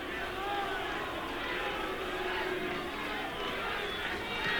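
A thinned-out crowd of about 5,000 at Fenway Park during a Blue Jays vs Red Sox baseball game makes a steady, distant roar of cheering and voices beneath continuous commentary.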